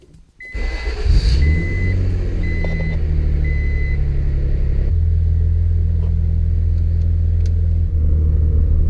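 A 1988 Acura Legend KA4 sedan, back on the road after sitting ten years, starts with a few repeating chimes and then rumbles along steadily on a test drive, loud and close from inside the cabin.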